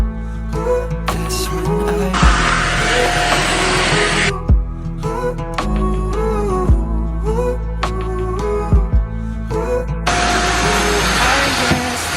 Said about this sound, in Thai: มื่อกี้ทางเราแอบเอาไปดูดฝุ่นมาแล้วนะคะ